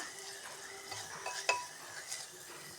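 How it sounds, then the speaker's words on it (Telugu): Sliced carrots and thinly cut onions frying in a pan for a vegetable ragi soup give a soft, steady sizzle, with one sharp utensil clink partway through. "క్యారెట్ ముక్కలు ఆనియన్స్ కట్ చేసిన సన్నగా అది కూడా వేసేసుకొని వేయించుకోవాలండి ఈ విధంగా"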